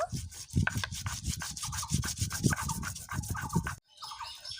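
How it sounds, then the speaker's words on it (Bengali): Spices including dried red chillies, whole cumin, whole coriander and radhuni ground with a little water into a fine paste, a steady rhythmic rubbing and scraping of stone grinding, close and continuous, ending abruptly. "সামান্য জল দিয়ে চন্দনের মতো মিহি করে বেটে নেব"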